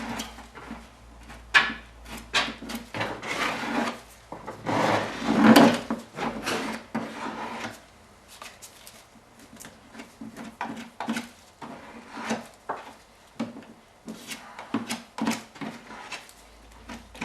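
Repeated scraping and rubbing strokes of a stiff plastic card spreading material over a surface during interior work, close and uneven in rhythm, continuing for a long stretch.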